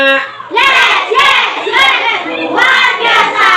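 A school class chanting the P5 clapping cheer, children's voices calling out in unison in rhythmic bursts with claps between them, loud and close.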